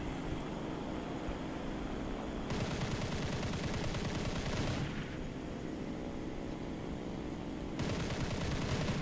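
Aircraft gunfire in the War Thunder flight game, heard as dense, steady rapid bursts of machine-gun fire over a constant engine drone, fairly quiet throughout and without speech.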